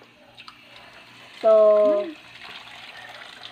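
Water poured into a cooking pot to boil banana peels for nuggets, a steady gushing pour of about half a second in a home kitchen, with faint room noise before and after and a voice speaking briefly at the start.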